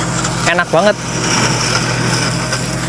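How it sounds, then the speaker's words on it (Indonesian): A grass-cutting machine engine runs steadily with a continuous hum in a rural Japanese field of tall grass, with a brief spoken remark early on over the drone. "kalau motong rumputnya pakai mesin kayak gini sih nggak nyampe 30 menit ya lur"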